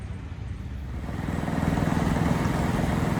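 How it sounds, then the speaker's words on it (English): A tractor engine chugs at a swap meet, its rapid regular firing pulses growing gradually louder as it draws nearer, with no voices. "Check out this tractor."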